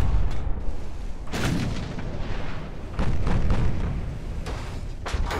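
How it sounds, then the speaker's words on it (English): Battleship artillery fire in the Ultimate Admiral naval video game: heavy booming salvos roll over a dense, continuous rumble of battle noise, with several loud blasts spaced a second or two apart. "Come on, battleship. We need you, buddy. Start landing shots"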